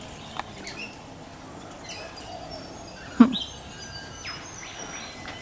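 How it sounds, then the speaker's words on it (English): Small birds chirp and tweet around a bird bath in a neighbour's garden outdoors, with scattered short calls over quiet background noise and one sharper, louder call near the middle. "So many birds here."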